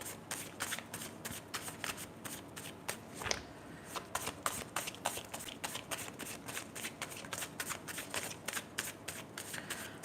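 Tarot cards shuffled by hand in a steady stream of crisp riffling flicks and soft slaps, close and fairly quiet, going on without pause and with no talking.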